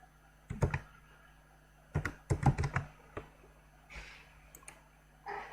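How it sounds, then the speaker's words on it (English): Typing on a computer keyboard nearby, in a few short clusters of quick key clicks separated by quiet pauses, set in a faint room hum with no talk. "Like I will type here Canva"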